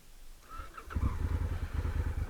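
A 2017 Honda Africa Twin DCT motorcycle engine cranks and catches, settling into a loud, rumbling idle close by.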